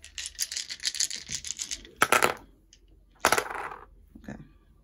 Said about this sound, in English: I have a lot of dice